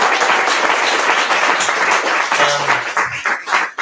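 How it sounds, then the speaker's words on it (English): A live audience applauds at a talk on policing in Palestine and India, a dense, loud wash of clapping lasting a few seconds, with faint voices underneath. "Can we have another round of applause for Azad?"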